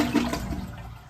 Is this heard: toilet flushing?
yes